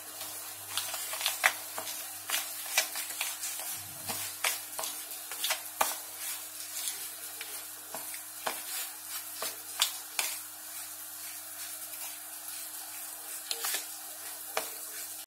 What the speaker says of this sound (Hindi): अभी मेरी सूजी और दही मिला के हो गया